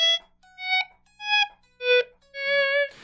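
Electric guitar notes fade in one after another as volume swells, washed in delay and reverb for an ambient sound. Five soft, sustained tones rise from silence, the last held longest before a brief noisy scrape.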